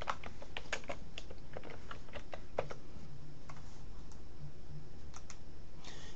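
Keys typed on a computer keyboard in quick irregular bursts of clicks, close and fairly quiet, with no talking.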